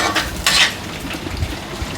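Carrot and potato pieces fry in hot oil while a metal utensil scrapes and clinks against the pan, with a soft steady sizzle underneath and no talking.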